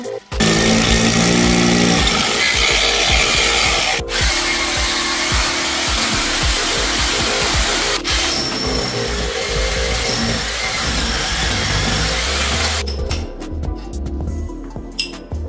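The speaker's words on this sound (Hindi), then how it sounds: "बैटरी की वायर्स को निकालने के लिए दीवार के आर पार छेद करना पड़ेगा" Power drill boring a hole right through a house wall to run battery wires for a solar inverter install, a loud continuous grinding whine with brief pauses near 4 and 8 seconds, then easing off toward the end; no talking.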